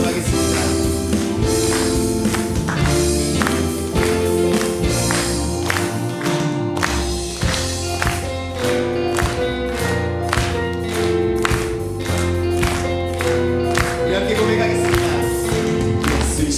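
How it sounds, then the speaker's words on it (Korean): Church congregation at a Sunday morning worship service clapping hands in steady rhythm along with loud sung praise and band accompaniment, the claps sounding as regular sharp beats throughout. "시원하게 박수 치면서 함께 찬양하도록 하겠습니다"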